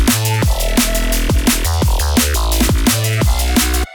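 Synth bass playing with drums in mono, with punchy kick hits and short bass notes repeating in a tight, steady groove. Loud, close and dense, with nobody talking.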